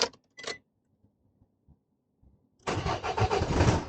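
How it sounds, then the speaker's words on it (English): A car engine cranks and catches after a fuel filter job, firing into a rough, loud idle after a few faint knocks and a quiet pause. "I've just about to test start the car to see if that's going."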